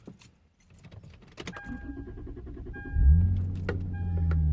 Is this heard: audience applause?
no